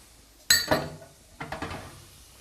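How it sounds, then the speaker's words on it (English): Diced carrot and red capsicum stirred in a pot for Kerala spiced pumpkin soup, a sharp metal clank followed by a few lighter scraping knocks of the spoon, close and brief. "Give that a little stir."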